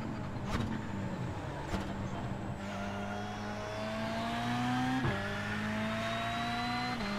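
A car driven in the racing video game Dung Beetle, its engine droning and rising in pitch through shifts, with a couple of sharp knocks or impacts along the way, steady and moderately loud without talk.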